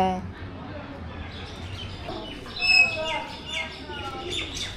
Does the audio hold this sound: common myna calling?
yes